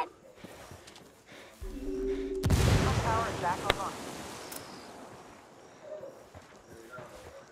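Frag grenade detonation in Ghost Recon Wildlands: one loud, close boom with a long rumbling tail, preceded by lower game noise and followed by fainter ambient sounds and a sharp click.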